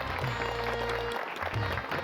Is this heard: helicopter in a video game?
no